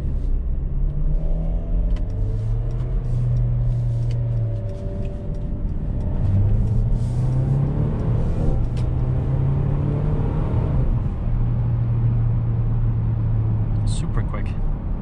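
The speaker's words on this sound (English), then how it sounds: "When it upshifts, it sounds nice, and it has that pops and crackle noise" A 2021 Mercedes-Benz GLC 300 engine in Sport Plus accelerating in steady surges with pitch rising then dropping at each upshift, heard from inside the cabin under occasional faint talk and road rumble.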